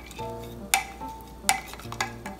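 A spoon stirs a cinnamon drink in a glass beaker with a cinnamon stick, giving a few sharp clinks against the glass between soft swirling sounds.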